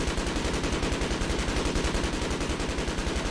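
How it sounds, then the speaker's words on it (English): Rapid, steady gunfire runs throughout, a dense stream of shots at a fast even rhythm, loud and continuous with no talk over it. "He's still shooting."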